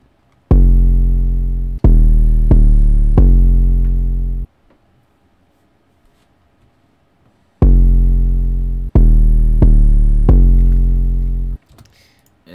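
A main 808 bass from the Pink Grills drum kit booms alone in a trap-style beat, playing loud sustained tones in two phrases of four notes each, separated by a few seconds of near silence.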